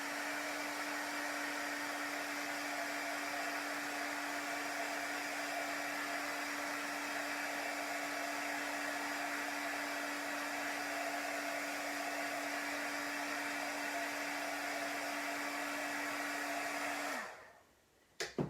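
A hair dryer blows steadily at close range over a painted Chalk Couture star craft, a loud, even whooshing hum with a constant motor tone that cuts off abruptly near the end.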